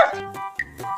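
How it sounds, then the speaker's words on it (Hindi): A few short, sharp dog barks in quick succession, close by, with brief pauses between them. "इस समय पे कुत्ता भौंक रहा है"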